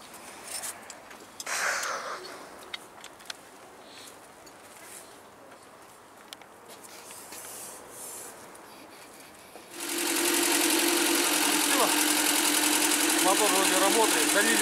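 A VAZ 2110 car engine starts up and runs steadily at a loud, even idle, following quieter rustling and handling noises.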